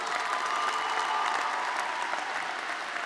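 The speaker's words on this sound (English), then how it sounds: "Let's have a round of applause for him." Steady, dense applause from a large audience at a 2013 commencement ceremony fills the whole stretch, even and sustained with no pauses, heard from within the crowd.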